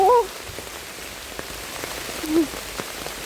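Steady rain patters down across a field while mushrooms are being picked, a soft even hiss close by with a short voice at the start and another brief one later.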